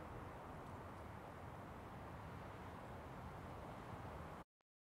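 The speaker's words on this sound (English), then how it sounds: "This is our core recording. It's a mountain with no wind," Steady, broadband outdoor hiss of a still, windless mountain atmosphere, recorded in quadraphonic at ear level, even and unchanging, cutting off abruptly near the end.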